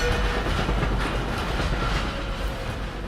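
Trains roll past in the Dishonored game world, a continuous close rumble of rail cars with a faint clickety-clack rhythm and steady, loud noise throughout.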